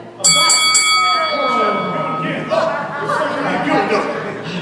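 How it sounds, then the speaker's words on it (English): A bell rings out clearly at the start, its tone fading away as people begin talking over it. "Did I hear a bell?"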